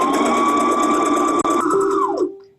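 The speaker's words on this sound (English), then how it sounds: "I'm going to sew it exactly the way I sewed the one on the other end" A sewing machine running steadily along a long seam with elastic, a loud, close, even mechanical whir with a brief hitch midway before it winds down and stops.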